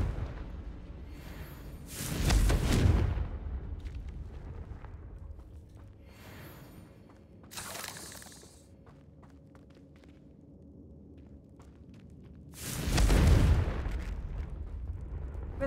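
Three heavy fire-blast spell explosions from the Confringo charm in Hogwarts Legacy boom out separately, each a loud broad burst with a fading rumble, spaced several seconds apart over a low background hum.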